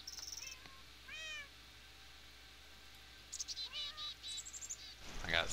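Cat meows from a Minecraft Tekkit game come in several short, rising calls, with clusters of higher game chirps near the end, set against quiet background hum.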